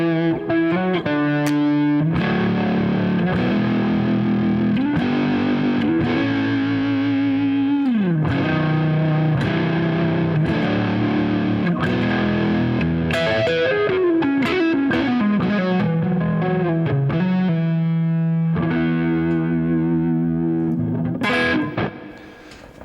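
Electric guitar or synth music played through a reverb effect with distortion, a loud continuous chordal passage with sustained, washy tails that fades slightly at the end.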